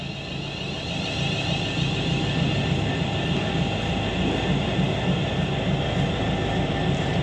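A Class 350 electric train moving through Nuneaton station, a steady, broad rumbling roar with a whining tone that swells slightly after the first second and holds evenly for several seconds.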